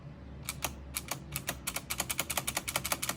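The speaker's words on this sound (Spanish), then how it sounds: "podemos sentir aquí cómo se escucha el clic." Razer Green clicky mechanical keyboard switches pressed close by, sparse clicks at first and then quicker, denser typing with no voice over it.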